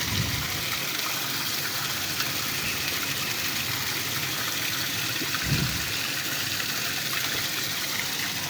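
Water runs steadily into a water tank, a continuous close gushing trickle with a brief louder splash partway through.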